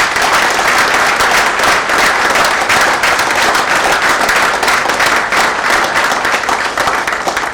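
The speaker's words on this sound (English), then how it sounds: "Give a round of applause to this most powerful lady." A large audience at a business chamber members' conclave applauds loudly and continuously, a dense wash of clapping that holds steady throughout.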